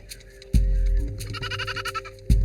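A goat during a ritual castration in Ethiopia, giving loud, close, strained bleats, two sharp cries separated by a wavering, quivering call, with other livestock faintly around.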